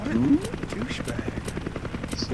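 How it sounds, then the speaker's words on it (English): In Resident Evil 5, a helicopter's rotor chops steadily in a fast rhythm, with engine drone beneath and a voice talking over it. "you don't get to fly the helicopter anymore."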